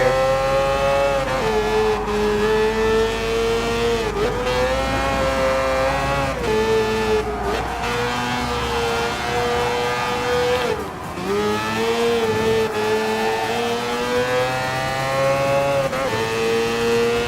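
Mazda 787B rotary race car in Gran Turismo Sport, with a high, buzzing rotary engine screaming continuously at speed, rising and dropping through repeated gear shifts and braking, loud and steady throughout.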